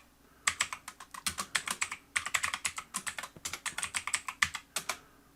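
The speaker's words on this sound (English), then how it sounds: "I'm going to just type some garbage" Rapid typing on a computer keyboard, bursts of crisp close key clicks in uneven runs with brief pauses between, no voices.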